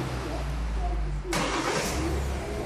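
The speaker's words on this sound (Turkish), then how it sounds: "Çalıştırın arabayı." A Kia Sportage engine cranks and catches partway through, then settles into a steady idle hum under loud broadband noise.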